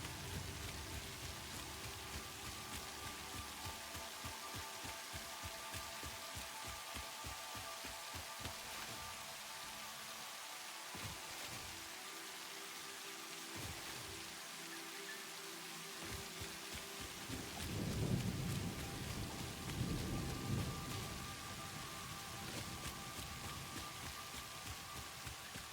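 Rain and thunder in the factory-building game Satisfactory, a constant soft wash of rain with low rolling rumbles building near the end, quiet and without talk.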